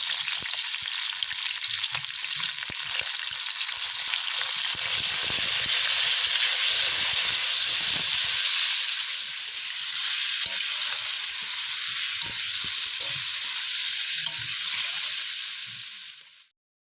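Cauliflower frying in a pan with salt and turmeric, giving a loud, continuous close sizzle and hiss with faint stirring scrapes, holding steady for about sixteen seconds before cutting off abruptly, with no talking.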